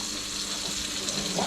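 Continuous crackling sizzle of risotto rice frying in a hot pan without added fat, close and fairly loud, with a faint scrape of stirring.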